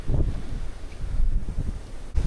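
Strong wind blows outdoors on a coastal outing near a landslide area in Vietnam, buffeting the microphone with loud, low rumbling gusts that surge and fade unevenly. No voices are heard.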